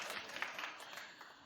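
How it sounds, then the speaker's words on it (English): Studio audience on a daytime talk show clapping scattered and steadily, a dense patter of applause at moderate distance. "Clap if you watched it, don't be embarrassed."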